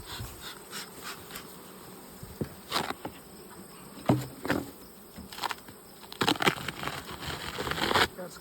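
A steady hum of honeybees swarming around opened hives during an inspection of summer splits, droning continuously with occasional closer buzzes passing by, plus soft knocks and scrapes of frames being handled.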